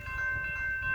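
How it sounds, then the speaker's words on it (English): A local freight train passes Bookout Road in Cowan, Tennessee, with a steady low rumble and a thin, sustained metallic ringing tone above it, heard only briefly. "Here comes a train."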